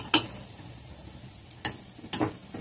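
A ragda mixture, spiced with garam masala and coriander powder, stirred in a hot pan: three sharp scraping clacks of a spoon stand out over a low, continuous sizzle.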